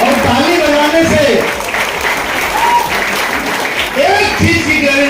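Dense, sustained clapping from an audience at a motivational speech gathering fills the room, with a voice speaking over the steady applause.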